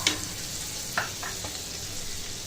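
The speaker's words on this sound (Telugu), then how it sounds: "ఫస్ట్ బటర్ వేసేసుకోవాలి ప్యాన్లో." Butter sizzles steadily in a frying pan as an omelette is started, a soft, even hiss broken by a few sharp clicks and light spatters.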